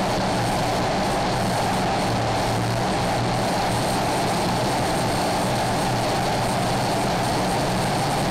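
Airplane engines at takeoff power on a runway roll, a steady, loud broadband roar that holds level throughout with no talk over it.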